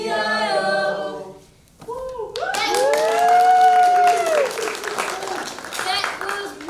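An audience at a Clyde Foothill High School drama show claps in a loud burst of applause with scattered cheers and voices. It follows a short stretch of sung children's rhyme and holds steady for several seconds.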